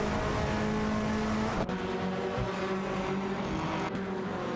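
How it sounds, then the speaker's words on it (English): Two TCR touring cars, an Audi RS3 and an Alfa Romeo Giulietta, race in a video game, their engines droning steadily with some tonal whine and a couple of brief gear-shift dips, no voices. "Both drivers are pushing hard in their Audi RS3 TCR and Alfa Romeo Giulietta TCR, respectively."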